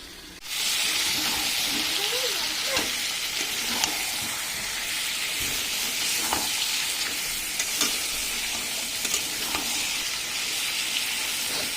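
Meat being braised and stir-fried in a pan with salt added, a steady loud sizzle with scattered stirring scrapes and clinks running throughout, no voices.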